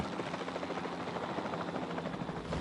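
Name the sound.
helicopter in the video game Jurassic World Evolution 2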